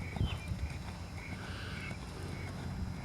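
A horse cantering in an indoor riding arena during a training clinic, with a muffled, irregular thud of hoofbeats over steady background noise and a faint distant voice.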